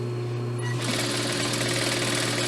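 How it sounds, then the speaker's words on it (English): A sewing machine stitches pillowcase fabric in a continuous fast, rattling hum that steps up in speed partway through, close and alone without talk. "always take your pins out before you sew over them"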